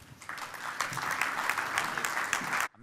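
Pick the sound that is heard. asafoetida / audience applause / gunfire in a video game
audience applause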